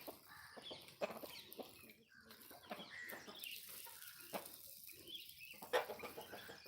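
Backyard chickens arriving to peck at scattered rice give soft, intermittent clucks amid faint outdoor background noise, with no talking.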